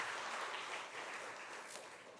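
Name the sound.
congregation applause welcoming newcomers in church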